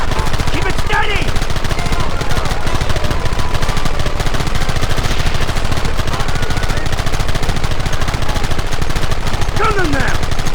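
Rapid gunfire in the Red Dead Redemption video game: a dense, continuous clatter of shots under a shouted voice or two, loud and steady throughout the clip.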